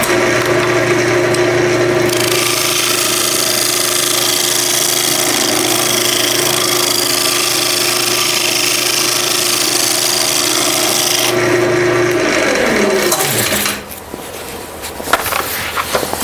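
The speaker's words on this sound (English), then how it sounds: "The other one I'll show you today is peeling cuts." A very sharp tool takes a peeling cut on a spinning wood lathe, giving a loud continuous rasping, whirring drone with a steady motor hum that winds down and stops near the end.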